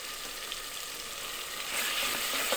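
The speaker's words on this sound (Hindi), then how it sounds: "अच्छी तरह से मिक्स करूंगी कि अच्छी तरह से मसाले की भुनाई हो जाए" Spices with turmeric sizzle steadily in a hot pan while being stirred, a continuous crackling hiss that swells louder near the end with a few scraping stir sounds.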